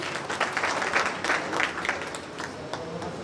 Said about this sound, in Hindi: तो इसके लिए हमारे मुअज्जम सर के लिए और जमशेद सर के लिए जोरदार ताली होनी चाहिए।